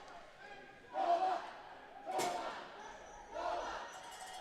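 Crowd cheers swell in three bursts at a Manitoba vs Quebec hockey semifinal at the NPHC 2025, rising and fading behind continuous arena commentary.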